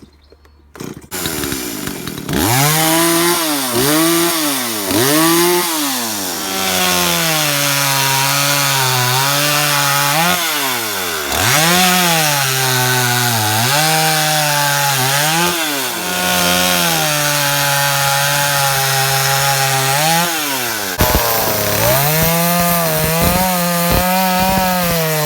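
After a brief quiet start, a chainsaw is pull-started and roars to life, then cuts wood with repeated loud, close revving surges and dips for over twenty seconds.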